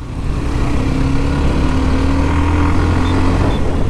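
Hero Xtreme 125R, a 125cc motorcycle, held in third gear at high road speed, giving a steady, loud engine drone with heavy wind rush throughout and no pitch change.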